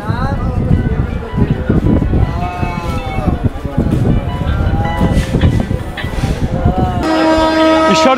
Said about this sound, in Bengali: ঈশ্বরদী রেলওয়ে জংশনে আমাদের ট্রেন নির্ধারিত 15 মিনিটের হল্ট শেষ করে অলরেডি আমাদের ট্রেনের বাসি পড়ে গেছে এবং আমাদের ট্রেন চলতে শুরু করেছে